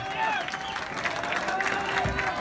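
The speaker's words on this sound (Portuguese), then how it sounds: "Cada vitória foi comemorada com aplausos" Crowd applauding a rescue from earthquake rubble in Mexico, scattered clapping and cheering outdoors under voices and street noise, brief and moderately faint.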